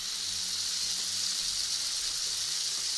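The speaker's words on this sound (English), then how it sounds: "I'm releasing the pressure." A steady, loud hiss of steam as pressure is released from an espresso machine, a constant broad rush that holds evenly throughout with a faint low rumble underneath.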